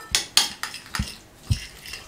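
A spoon clinks and scrapes in a bowl while chopped onion, green chilies and coriander are mixed for an egg roll filling, giving a few sharp, close taps spaced unevenly.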